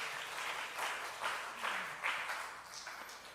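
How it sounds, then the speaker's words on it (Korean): Church congregation applauding during a Wednesday worship service, a soft, fairly distant patter of clapping with rhythmic swells, steady and fading slightly near the end, with no talk over it. "우리 박수 한번 해주시면 너무 좋을 것 같습니다"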